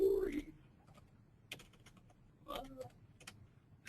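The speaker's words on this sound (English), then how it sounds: "I'm a little slow at typing here." Typing on a computer keyboard at a desk: faint, sparse key clicks in uneven clusters, quiet and close, with a brief bit of voice at the start.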